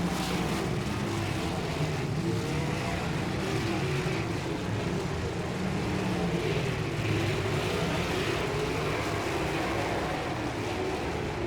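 Sprint cars race in a feature event at Paragon Speedway, a dirt oval, their engines making a loud continuous roar and whine that rises and falls steadily throughout, with no talking.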